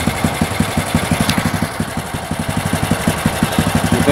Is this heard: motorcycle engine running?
yes